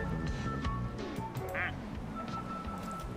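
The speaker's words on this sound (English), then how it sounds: "It's a black duck." A black duck quacks amid busy background noise, with a short, nasal honking call standing out briefly over a steady, cluttered din.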